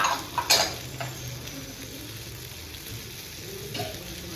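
Tarle fish frying in a pan and being turned onto each side, a steady low sizzle broken by a few sharp clinks of a utensil near the start and once more near the end.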